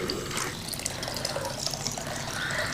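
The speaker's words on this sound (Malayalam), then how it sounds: "തീ കൂട്ടിയിട്ട് വെള്ളം ഒഴിക്കണം" Water poured from a vessel into a pot set on the stove fire for cooking broken wheat for payasam, a steady close splashing pour that runs the whole time with no talk over it.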